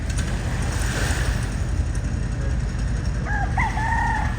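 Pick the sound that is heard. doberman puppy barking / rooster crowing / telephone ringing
rooster crowing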